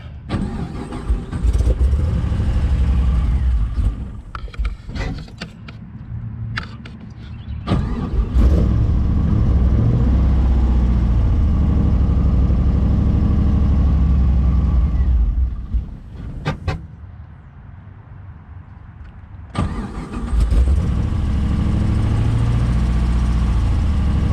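A 7.0L LSX-swapped Cadillac CTS engine cranks and catches several times, surging and dropping in uneven bursts as it struggles to keep running, loud and close, with brief gaps of quieter cranking between attempts.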